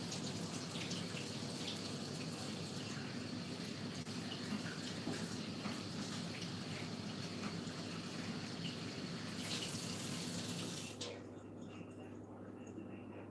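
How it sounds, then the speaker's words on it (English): Tap water runs steadily to rinse a half-cup measuring cup, a continuous broadband rush that stops abruptly near the end, leaving a quieter background hum. "I'm going to put this down for 1 second to rinse my 1/2 cup"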